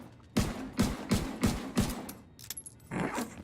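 Five evenly spaced gunshots hit an exercise ball in the shooter Tom Clancy's The Division 2, crisp close shots with a brief rustle after them and no talking.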